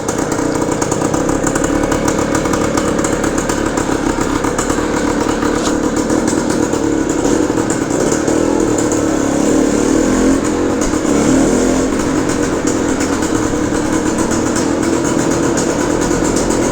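A 1970 Yamaha DT1 250 two-stroke motorcycle runs continuously, its engine buzzing loudly and up close with a steady raspy drone and mild swells in revs, no talking over it.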